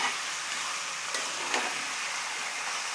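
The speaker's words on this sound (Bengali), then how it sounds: "এভাবে আমরা দশ থেকে পনেরো মিনিট কষিয়ে নেব ভালোভাবে" Chicken frying in spices in a pan gives a dense, even sizzle, close and continuous, with a couple of faint stirring scrapes and no talk.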